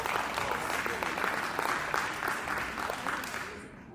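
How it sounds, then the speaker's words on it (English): An audience at a South African colloquium applauding, dense clapping with sharp individual claps standing out, fading toward the end. "really let's give them a round of applause"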